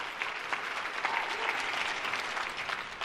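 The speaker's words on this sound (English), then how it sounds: "Yeah, clap it up for that." An audience at a business presentation claps in a brief, dense burst of applause, steady and fairly close throughout without distinct voices.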